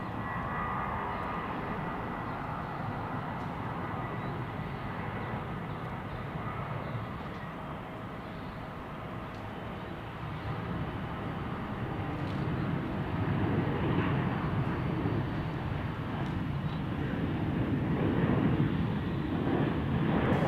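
Airbus A321 airliner passing outdoors at a planespotting spot, a broad steady engine roar that swells gradually louder toward the end, heard alone.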